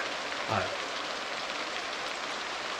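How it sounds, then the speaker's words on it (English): Steady video game rain hisses across the whole stretch, an even wash of patter with a brief low thump near the start. "Why is it still fucking raining?"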